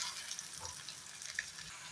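Onions and tomatoes sautéing in oil for egg kothu chapati: a faint, short, steady sizzle with a few soft crackles, no talking.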